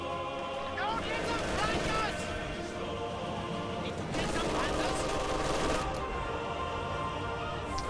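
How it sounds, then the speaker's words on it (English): Machine gun fire from a Company of Heroes match suppresses riflemen, with repeated bursts of gunfire crackling amid a busy battlefield mix of distant shots and rumbling, steady and fairly loud throughout while a commentator talks over it. "Machine gun suppressing some riflemen over here."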